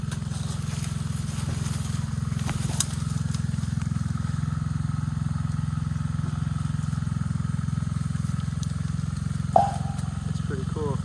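An engine runs steadily with a continuous low hum, accompanied by faint clicks and a brief crackle near the end.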